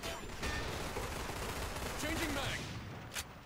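Sniper rifle fire in the shooter Line of Sight, one steady stretch of dense, loud battle noise with a sharp crack near the end, under faint talk.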